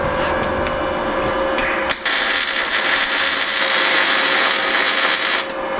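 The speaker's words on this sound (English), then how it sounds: "Turn on the welder." A newly bought welder runs in a garage while work is done on a VW Baja Bug rear suspension subframe, giving a loud, steady buzzing hiss with a clear tone, broken by a brief dip and a few sharp ticks.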